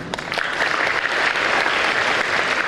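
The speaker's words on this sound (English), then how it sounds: "A big round of applause for all our mothers and teachers and of course ma'am." A school audience at a meet-the-author event with Sudha Murthy breaks into dense, steady applause, a close and continuous wash of many hands clapping without a break.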